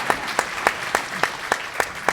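An audience at an immigration and racial-justice plenary claps in a steady, evenly spaced rhythm of sharp beats, moderately loud and without any talking.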